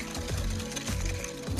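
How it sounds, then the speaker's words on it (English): An electric whisk beats egg yolks and caster sugar in a bowl, giving a close, steady buzzing whir with a faint rhythmic knock as the beaters circle, no voices over it. "Then whisk the yolks and sugar together."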